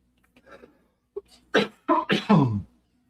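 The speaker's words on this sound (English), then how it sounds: "Apologies for coughing in your ear." A man coughs several times in a quick burst, loud and close, preceded by a few soft throat sounds, with no talking.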